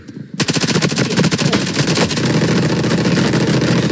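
Gunfire in the video game Veiled Experts, a loud, close burst of rapid automatic shots in a fast even rhythm that breaks out suddenly and then blurs into a sustained roar.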